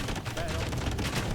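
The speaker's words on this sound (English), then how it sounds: "this castle continues to be pushed by the bomber cannons" Bombard cannons pounding a castle in Age of Empires, a dense run of overlapping booms and crackling impacts under a commentator's talk.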